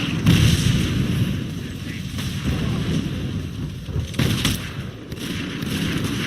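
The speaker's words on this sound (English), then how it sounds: "Can you take that mortar out?" Mortar artillery fire in the video game Fable III: heavy booms and blasts thud repeatedly over a loud, rumbling battlefield din, with a couple of stronger explosive hits standing out.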